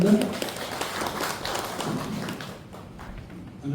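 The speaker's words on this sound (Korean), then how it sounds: "박수로 맞으시기 바랍니다" An audience at a local redevelopment information meeting claps for an arriving speaker, a soft, dense patter of applause that gradually fades.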